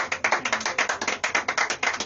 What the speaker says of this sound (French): S'il vous plaît, maximum d'applaudissements pour Mister Thierry Fidieu